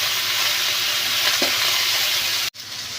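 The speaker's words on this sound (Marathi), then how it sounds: "याला छान असं तेलावर आपल्याला परतून घ्यायचं आहे" Onion and tomato with curry leaves sautéing in hot oil, a steady close sizzle and frying hiss throughout, with a brief dropout near the end.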